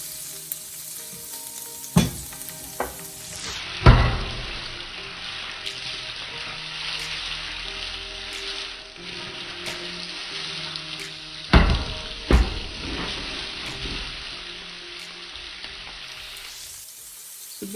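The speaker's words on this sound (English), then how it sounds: "So basically you're going to want to cook this down for a little bit, and we'll come back to it and just keep stirring." Vegetables for a stir fry sizzle steadily in a hot pan, with scraping stirs and a few sharp clacks of the utensil against the pan at intervals.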